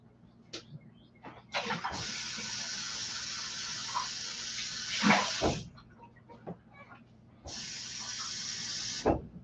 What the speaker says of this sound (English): Let me get some new water.